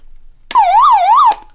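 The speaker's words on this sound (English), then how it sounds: "here is our siren switch" Siren from a Kaito KA340 emergency lantern radio gives a loud, close electronic wail, rising and falling in pitch twice over under a second before cutting off abruptly.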